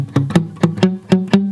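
Acoustic guitar bass notes palm-muted with the hand too close to the sound hole, a short run of dull, thudding plucks in a steady rhythm, close and fairly loud.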